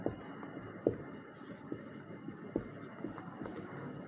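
A teacher writes during a class 10 mathematics lesson on polynomials, giving quiet scratching strokes with several sharper taps, and no speech is heard.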